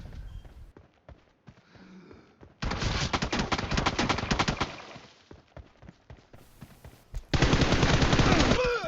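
Gunfire in the mobile battle royale game PUBG Mobile, with loud sustained bursts of rapid automatic shots separated by quieter stretches, heard close and dense.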